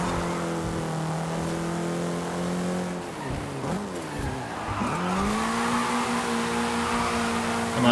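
A car in Forza Horizon 5 revs hard and spins its tires, engine tone sweeping down and back up with squealing wheelspin, loud and close with no talking.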